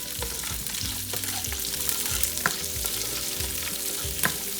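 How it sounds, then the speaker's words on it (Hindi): Onions and green chilies fry in about two tablespoons of oil in a pan, a steady close sizzle with scraping stirs and light spoon knocks throughout, no talking. "पैन में मैं थोड़ा सा ऑयल ले रही हूँ, अबाउट 2 टेबलस्पून, और इसमें हम ये अपनी अनियन और पेपर ग्रीन चिलीज इन्हें फ्राई कर लेंगे।"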